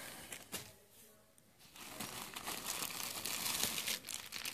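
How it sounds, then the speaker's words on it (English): Plastic bag holding a compass in a bug-out kit crinkles and rustles up close, with irregular crackling handling noises that grow denser and louder toward the end. "Got in this plastic bag just to keep it waterproof."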